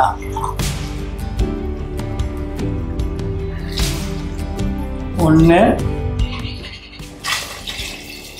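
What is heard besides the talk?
water being poured into rice for mutton biryani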